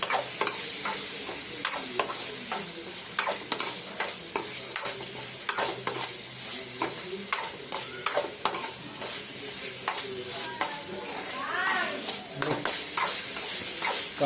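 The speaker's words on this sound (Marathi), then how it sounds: "कोळंबी आता फ्राय होते" Prawns fry with onion, tomato and capsicum in a pan under a constant bright sizzle, punctuated by frequent rhythmic scrapes of a spoon stirring, with a faint voice briefly in the background.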